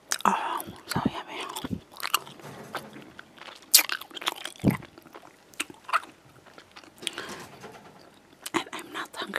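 Haribo Creamy Strawbs, soft strawberry-and-cream gummy candies, bitten and chewed right at the microphone: crisp, close crunches and wet chewing come in irregular bursts, with faint breathy mouth sounds between bites.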